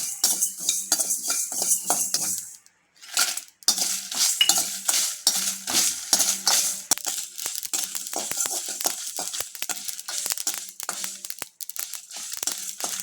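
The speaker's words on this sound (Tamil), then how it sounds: "அப்படியே இதெல்லாம் பொரியிற வரைக்கும் வறுக்கணுங்க" Spices dry roasting in a pan for gooseberry pickle, with a steady scrape and rattle of stirring against the metal and a faint crackle, close up and continuous apart from a brief pause.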